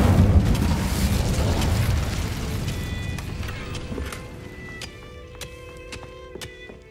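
A fire spell cast in the video game Hogwarts Legacy: a loud rushing burst of flame that roars at first, then fades into a crackling tail with bright magical chimes ringing out over it.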